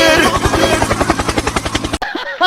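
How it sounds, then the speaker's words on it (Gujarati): A helicopter sound effect gives a rapid, steady rotor chop that thumps loudly for about two seconds, then cuts off abruptly. "Helicopter helicopter."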